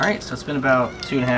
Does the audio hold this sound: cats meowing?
yes